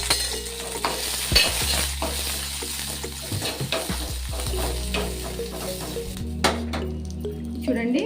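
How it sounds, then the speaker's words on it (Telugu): Ridge gourd peel and green chillies fry in oil, a continuous sizzle with spoon stirring and scraping against the pan, plus occasional utensil clinks while someone talks over it. "దీనిలో పచ్చిమిరపకాయల దాంట్లో వేయించుకున్న దాంట్లో నేను ఫ్రై చేస్తున్నాను"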